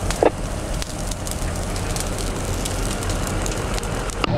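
A prescribed burn in Highlands County crackles and roars steadily as a dense, continuous wash of fire noise outdoors, with a few sharper pops standing out.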